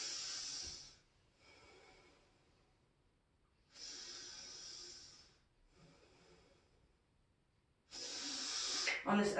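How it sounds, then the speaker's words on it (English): Slow, deep breaths taken while holding a plank pose in a Hatha yoga class, each long airy inhale or exhale rising and fading in turn, about three breaths, close and fairly quiet with no talking. "Now let's take 3 full breaths here in plank."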